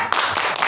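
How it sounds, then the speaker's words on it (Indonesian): A short, loud burst of many hands clapping for Ibu Nani at a community economics session, close and dense. "Tepuk tangan untuk Ibu Nani."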